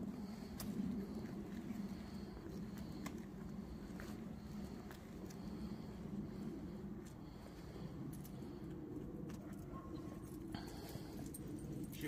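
A dog whimpers softly during forced retrieve training, with faint high whines set against a steady low background hum.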